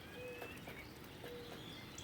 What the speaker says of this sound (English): You can also hear the various birds in the neighborhood.